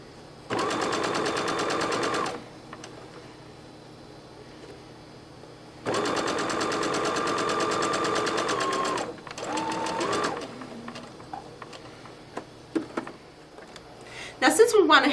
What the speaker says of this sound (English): the rest of the way now we get to sew on smooth fabric and finish our sleeve